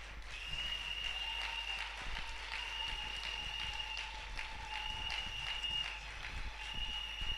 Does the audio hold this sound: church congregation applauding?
yes